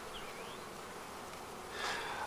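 Honeybees buzz in a steady, fairly quiet swarm drone, and one bee briefly hums louder as it passes close near the end.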